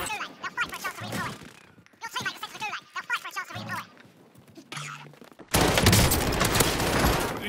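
Call of Duty gunfire sounds on Rebirth Island as rapid bursts of shots with thuds and impacts, ending in a loud sustained barrage, with voices talking in between.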